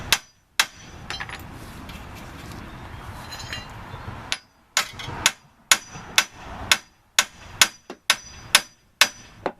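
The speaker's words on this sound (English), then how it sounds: "I hit it with a hammer and then loosen it" A hammer striking the wheel hub of a 2005 Hyundai Elantra during wheel bearing replacement, about a dozen sharp metallic blows, close and loud, scattered at first and then coming in a quicker, fairly regular run.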